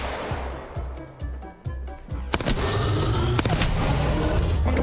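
Video game gunfire: rapid repeated shots and sharp bursts, moderately loud, growing denser midway with scattered louder blasts.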